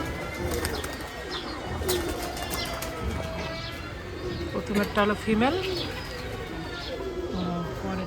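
Pigeons, a female and a male, give soft low coos and burbling calls close by, with a clear run of cooing midway, while someone talks over much of it.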